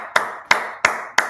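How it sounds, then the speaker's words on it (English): A congregation claps together at a Sabbath service: four sharp, loud claps in unison, evenly spaced about a third of a second apart, with no voices. "All right, clap it up."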